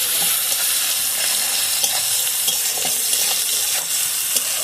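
Sliced onions fry in a pan until reddish for a crispy beresta garnish, a loud, continuous close sizzle with occasional stirring scrapes and no voices.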